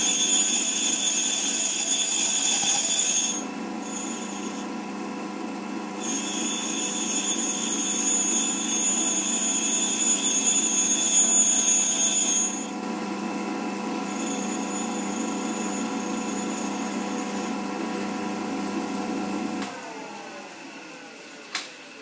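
A lathe tool is ground on a fine 80 grit grinding wheel, giving a steady high whine whose tone shifts as pressure comes and goes, with the motor winding down at the end.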